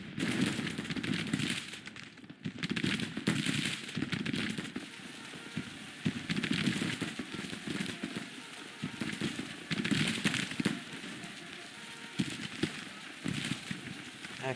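Musket fire in a battle from the video game Grand Tactician, set in the Civil War, with a dense, continuous crackle of distant volleys rolling in waves, no talking.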